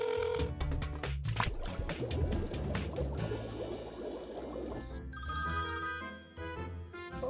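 A telephone rings repeatedly while a call is placed to a pasta shop, a steady ringing tone with sustained layered sound beneath it and no talk.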